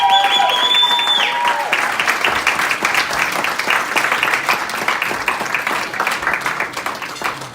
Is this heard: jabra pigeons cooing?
no